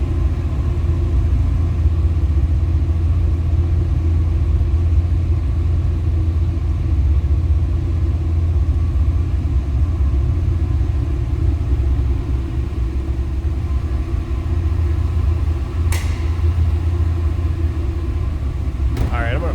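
A 1995 Ford Mustang GT coupe engine idles nearby with a steady low rumble throughout, heard from the back of the car, with a couple of brief sharp noises near the end.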